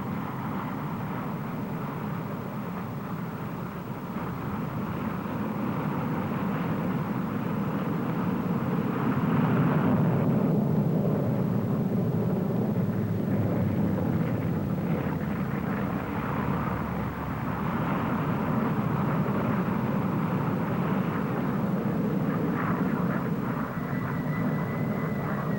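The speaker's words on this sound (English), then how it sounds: "Lovely flying followed by a formation landing." Aircraft flying at the Farnborough air show, including a formation landing, give a steady loud engine roar and rumble that swells slightly and holds for the whole stretch, with no voices over it.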